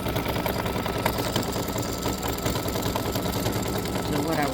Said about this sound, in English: it is stitching the satin stitch around the body